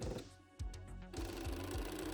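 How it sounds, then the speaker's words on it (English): A sewing machine stitches fishnet fabric with a loud, close mechanical whirr, pausing briefly before running on in a continuous rhythmic drone. "time to hope the sewing machine is kind enough to sew the fishnet to itself"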